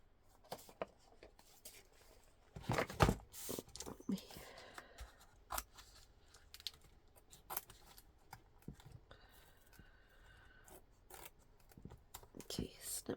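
Scissors snip out a small paper snowman for a multiple-fold handmade card, giving a string of crisp close cuts with a louder burst near the start, amid paper rustling and quiet talk.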